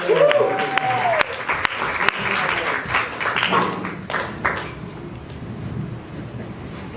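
An audience gives a round of applause, loud dense clapping at first that gradually thins and softens, with a voice speaking over it early on.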